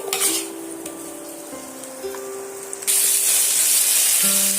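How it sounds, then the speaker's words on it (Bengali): Diced potatoes fry in hot oil as a spatula stirs and turns them, with a steady sizzle that gets louder and brighter partway through and some scraping and clinks of the pan over a low background tone. "আমি আগে থেকে যে আলুটা কুচে রেখেছিলাম সেটা আমি তেলের মধ্যে অ্যাড করে দিলাম"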